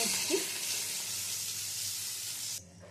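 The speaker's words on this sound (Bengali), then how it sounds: "এই মাছ দুটো এপিটোপিট করে ভাজা হয়ে গেছে" Pomfret fish frying in hot oil in a kadai gives a steady, close, loud sizzle that cuts off sharply near the end, with no talk.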